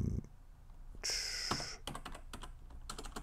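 Keystrokes on a computer keyboard as a terminal command is entered in Linux, a loose run of quick clicks with a brief burst of denser typing near the middle, close and moderately quiet.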